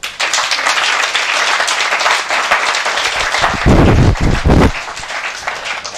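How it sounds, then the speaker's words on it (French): Steady applause from a large crowd, many hands clapping continuously, swelling briefly louder with a few heavy thumps near the end. "applaudissez pour vous-même"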